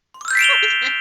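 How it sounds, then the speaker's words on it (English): A small bell rings once with a bright, clear ding, close and loud, and its shimmering tone lingers and slowly fades. "I'll give you a little bell too."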